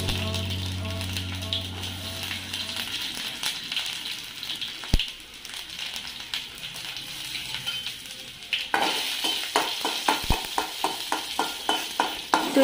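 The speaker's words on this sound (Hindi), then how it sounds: "जब ऑयल गर्म होगा तो हम उस पर डालेंगे मस्टार्ड सीड्स और सूखी मिर्च लहसुन।" Mustard seeds, dry red chillies and garlic hit hot oil in a kadhai, a soft sizzle that bursts into a rapid, close run of crackling pops in the second half.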